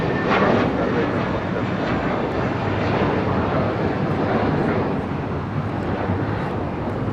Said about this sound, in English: 1658 taking off to Dallas Fort Worth on an A321.